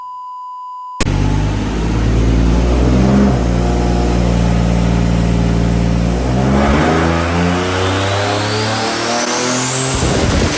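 A twin-turbo Nissan 370Z with blown turbos revs hard on a dyno. After a steady test tone, the engine roars in loud and close, climbing through rising harmonics in one long sustained pull with no talking.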